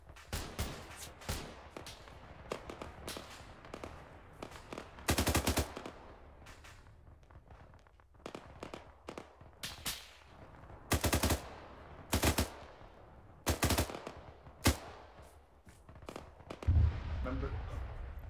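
Bursts of automatic rifle and machine-gun fire from enemy infantry in ArmA 3, sharp repeated volleys at mid distance with short pauses between them, and voices talking over the shooting.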